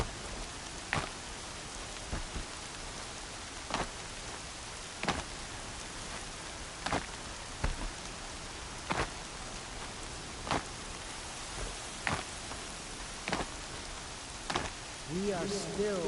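Heavy rain falls steadily in the video game Horizon Zero Dawn, a soft continuous hiss punctuated by regular sharp ticks and taps, with a faint low tone rising at the very end.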